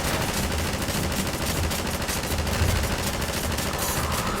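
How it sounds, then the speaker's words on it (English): Pulse rifle gunfire in Half-Life 2: a sustained, rapid burst of automatic shots forming a dense, steady rattle that stays loud throughout, with no talking. "I'm going to use this pulse rifle."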